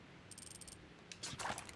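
Clockwork gears of a large clock tower in Resident Evil 4 give a quick run of rhythmic mechanical clicks, followed by a louder grinding, whirring burst of moving machinery, fairly quiet overall.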